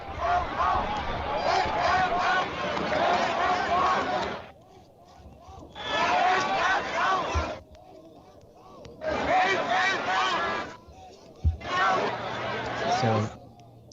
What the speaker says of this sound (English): So that's a crowd of people yelling, "Take him out."